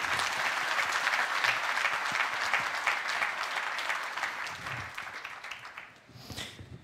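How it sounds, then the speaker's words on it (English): Sustained applause from a conference audience at a blockchain industry summit in Malta, steady and full for several seconds, then thinning out and fading near the end. "So please, a round of applause for Malta and for its efforts in the sector."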